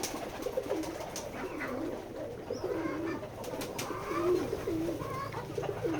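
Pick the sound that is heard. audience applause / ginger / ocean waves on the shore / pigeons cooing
pigeons cooing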